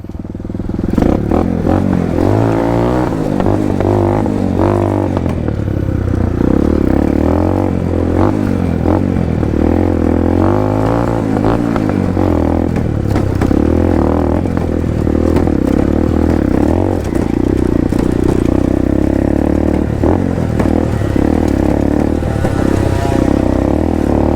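A Honda MSX 150 motorcycle fitted with a Keihin PWK flat slide racing carburetor, ridden with its engine droning steadily and loudly close by, revving up and easing off, with some clatter mixed in.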